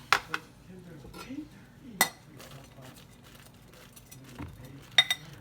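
Onions are stirred into a cooking mixture in a pot, heard as a few scattered, faint clinks and taps of a utensil against the pan in a quiet kitchen, with a brief trace of voice.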